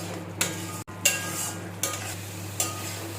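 Spice paste with dry red chilli, black cumin, cinnamon, mace and salt sizzles in a pan for a vegetarian soybean dish, with a steady fry hiss broken by four or five scraping stirs at a slow, even pace.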